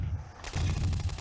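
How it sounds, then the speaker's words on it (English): Video game cluster explosions in Boxhead 2Play, a low rumble suddenly giving way to a rapid volley of sharp blasts, bursting in quick succession and staying loud to the end. "cluster explosions are pretty fun"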